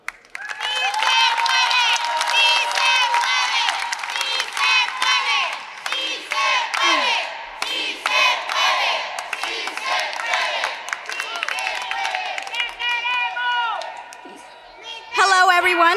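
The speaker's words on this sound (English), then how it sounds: "Round of applause for Dulce." A rally crowd claps and cheers loudly for several seconds, with shouts and whoops rising over sustained applause before it fades and a burst of noise returns at the end.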